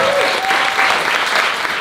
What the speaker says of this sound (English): give a round of applause for our panelists one more time